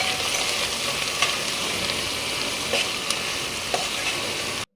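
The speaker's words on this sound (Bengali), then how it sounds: "পেঁয়াজ কুচিটা দিয়ে একটু নাড়াচাড়া করে দিই।" Chopped onions stirred and frying in a pan, a steady, dense sizzle that runs throughout at moderate level, with a few sharp scrapes of the spoon against the pan before it cuts off abruptly.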